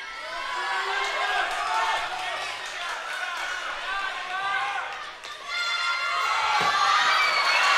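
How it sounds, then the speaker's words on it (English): Crowd cheering and applauding at a gymnastics world championships in Tel Aviv during a men's rings routine, a sustained roar of an arena audience with a brief dip before swelling again, with commentators talking over it. "Crowd delighted to watch him perform."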